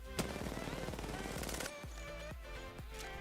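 Rapid automatic fire from an R99 submachine gun in Apex Legends, a dense burst of shots for over a second followed by a few separate, spaced single reports.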